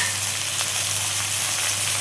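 Tomato frying in a pan for a Bengali fesa fish curry, a steady close sizzle that holds level throughout, with no talk.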